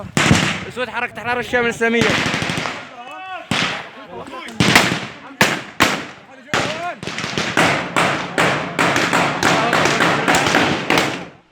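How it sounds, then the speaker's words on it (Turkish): Rapid bursts of gunfire and heavy booming artillery blasts crack out loudly one after another during combat on Mount Bursaya near Afrin, with brief shouting voices near the start. "Silah sesleri top seslerine karıştı"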